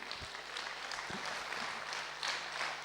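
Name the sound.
audience applauding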